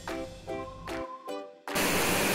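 A steady rush of falling water roars loudly after a few short tonal bursts, broad and continuous like a nearby waterfall, near Pollachi, India.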